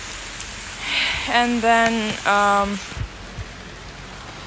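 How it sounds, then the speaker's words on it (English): Heavy rain falls steadily outdoors as a continuous broadband hiss, partly masked by a person talking over it in the middle of the stretch. "and it's fucking raining a lot."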